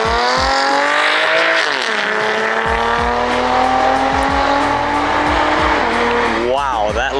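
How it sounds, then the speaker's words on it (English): Loud Lotus sports car departing a car meet, its engine revving hard and rising through a series of quick gear changes with crackling shifts, passing near and staying prominent throughout, with a final sharp rev at the end. "that Lotus sounded even crazier"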